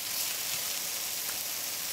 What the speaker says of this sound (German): Und das Ganze wird jetzt einfach mal richtig scharf angeröstet.